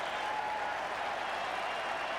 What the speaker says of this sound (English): The crowd is clapping these Auckland guys all the way back to halfway